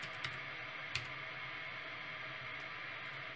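A few sparse, light keystrokes on a computer keyboard tap out a preset name against a faint steady hiss.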